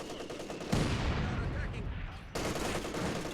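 Dense gunfire and mortar fire in a war video game, a sustained loud barrage of overlapping shots and blasts with a sharp jump in intensity partway through, continuing without pause.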